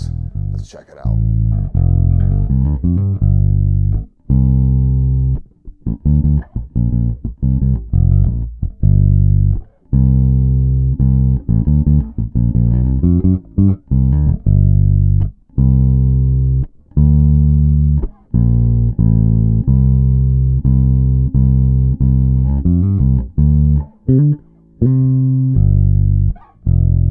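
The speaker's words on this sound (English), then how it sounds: "This is the Conchers short scale bass." Castedosa Conchers short scale bass fitted with Curtis Novak pickups, played alone and loud, with deep sustained notes and quick runs broken by brief gaps.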